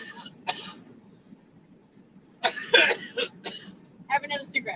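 A person coughing and clearing the throat in a few harsh, close bursts separated by quiet pauses, with a rougher cluster near the end.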